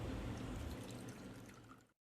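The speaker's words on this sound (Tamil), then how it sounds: "நான் 1/4 கப் தண்ணீர் சேர்த்துருக்கேன்." A quarter cup of water poured into a pan while cooking Thai pad gaprao: a close, brief splashing pour lasting under two seconds before it stops abruptly.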